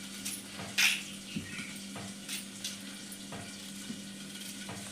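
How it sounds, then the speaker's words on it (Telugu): Onions with curry leaves frying in a pan, a steady low crackle throughout with a few sharper clinks and scrapes of a utensil against the pan, close by and fairly quiet. "ఆల్మోస్ట్ ఆనియన్స్ అన్నీ ఫ్రై అయిపోయాయి."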